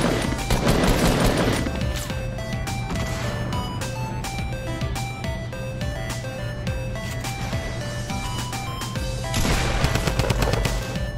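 Rapid gunfire in Fortnite, repeated loud shots and bursts in quick succession over a busy backdrop of game sounds, growing more intense near the end.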